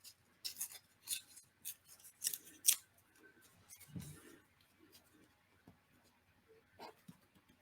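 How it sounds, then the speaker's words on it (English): Pink paper being torn by hand for a junk journal craft project, several quick crisp ripping bursts early on, then quieter rustling and handling noises, fairly close and soft. "Tear a little piece of my pink paper here."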